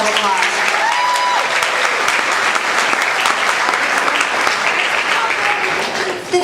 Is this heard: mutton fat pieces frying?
no